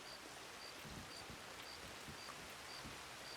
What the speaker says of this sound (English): Oh, it looks like we're getting a bit of rain.